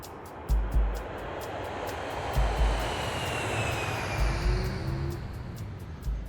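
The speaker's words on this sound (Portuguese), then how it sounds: "estão acostumados com o barulho dos aviões decolando e" A jet airplane roars in the distance with a broad, steady rush of engine noise, heard over light wind buffeting.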